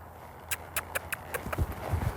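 Horse's hooves striking the ground in a loping canter, a quick series of sharp, close hoofbeats that start after a short pause and continue in a steady three-beat rhythm over low rumbling movement.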